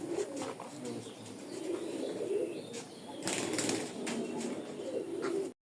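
Pigeons coo softly in a loft of Rajshahi flying pigeons, with wing flaps and rustling mixed in. The low, steady cooing runs throughout under faint background noise.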